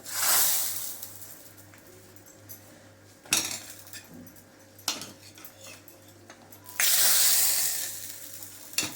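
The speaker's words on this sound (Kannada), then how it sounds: "ಕುದೀತಿರೋ ಹುಳಿಗೆ ಇದು ಒಗ್ಗರಣೆ ಹಾಕ್ತಾ ಇದ್ದೀನಿ" Tempering is poured into boiling methi greens sambar, giving sharp bursts of loud sizzling hiss at the start, middle and end, with clinks of a metal ladle and pot between them.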